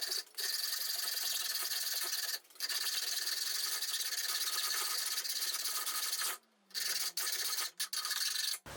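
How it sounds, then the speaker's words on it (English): Hacksaw cutting through a metal dovetail bar for a Celestron 8i Special Edition telescope, fast continuous rasping strokes close and loud, broken by a few brief pauses. "I'm just going to try the hacksaw first"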